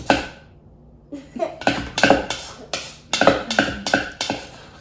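Utensils scrape and clink against a bowl while monster veggie muffin batter is mixed, in a series of uneven, close knocks and clatters after a short quiet start.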